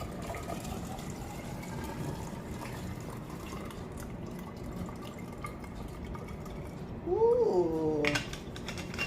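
Water pours into a 500 ml graduated cylinder while making malt extract agar, a soft continuous trickle that rises in pitch as the cylinder fills, then a brief louder gurgle near the end.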